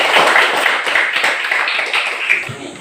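A group of children clap their hands together in a classroom circle, a busy, close patter of uneven claps with small voices mixed underneath.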